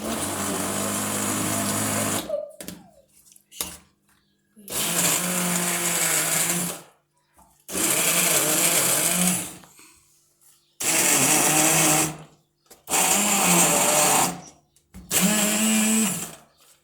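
A blender on turbo speed churning blackberry ice cream, running in several loud, whirring bursts of a few seconds each, separated by short quiet pauses.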